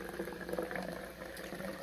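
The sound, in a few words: pouring Sweet Leaf lemon lime carbonated water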